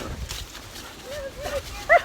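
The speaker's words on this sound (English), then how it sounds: "You can hear her yipping and yapping." Dogs yip and yap excitedly on a rainy fall hiking trail, with faint whimpering calls and a short sharp yelp near the end over steady outdoor noise.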